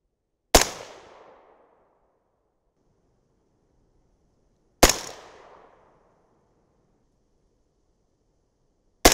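Two loud, sharp rifle shots from a .224 Valkyrie at an outdoor range, about four seconds apart, each with a long decaying echo, and the start of a third at the very end; no talking.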